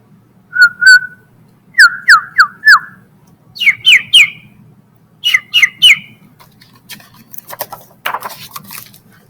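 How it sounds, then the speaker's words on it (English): Birds tweet in clear, close chirps, short downward-sliding notes grouped in twos, threes and fours with brief pauses between groups, ending in fainter scattered twitters. "Time to tweet. Tweet,"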